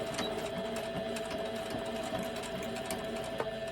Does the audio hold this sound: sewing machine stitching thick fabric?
yes